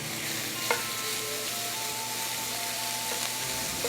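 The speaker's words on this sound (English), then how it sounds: "Hear that sizzle? That is exactly what you want." Steak frying in extra virgin olive oil in a hot skillet gives a steady, close sizzle with a few brief clinks and stirring scrapes, and no one talks over it.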